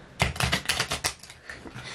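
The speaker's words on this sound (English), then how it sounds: "I'm just gonna continue to shuffle these a little more." A deck of playing cards being shuffled, giving a quick run of crisp, papery riffling bursts up close that trail off into softer flicks.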